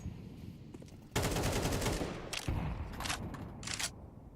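Rapid gunfire in a Counter-Strike match as pistol-armed players are gunned down, a dense loud burst of automatic shots followed by shorter volleys, crackling and continuous over game ambience.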